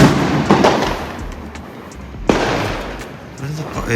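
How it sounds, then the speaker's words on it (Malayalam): Firecrackers bursting outside during a New Year celebration in a crowded Indian city, heard from a balcony as loud cracks and rolling booms over a continuous background rumble, with voices talking. "പടക്കം"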